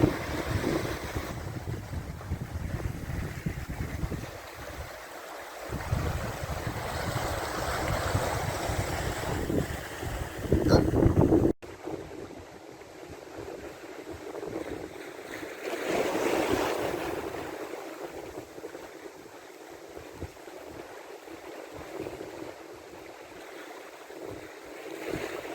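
Ocean surf and wind on a chilly coastal trail near Hobart give a steady, broad wash of breaking waves with gusty wind noise buffeting the microphone, continuing for about 25 seconds with no talking.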